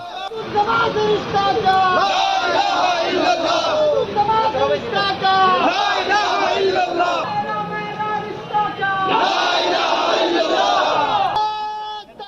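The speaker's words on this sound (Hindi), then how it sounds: "छात्रों की भीड़ ने बैनर पोस्टर के साथ धार्मिक नारेबाजी की" Crowd of university students at Aligarh Muslim University chanting religious slogans, including "Allahu Akbar", loud massed voices rising in repeated bursts of shouting with brief dips between waves, close and continuous.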